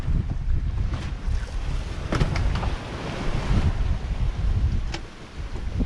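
Big ocean waves hit a sailboat at sea, a loud constant rush and slosh of water with strong wind noise on the microphone, surging in heavier bursts throughout.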